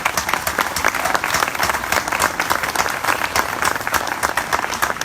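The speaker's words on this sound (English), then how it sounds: "I wish you'd give them all and their families a round of applause" Audience applause at a county fair queen coronation ceremony, a dense, steady wash of many hands clapping that holds evenly for the full length with no voices over it.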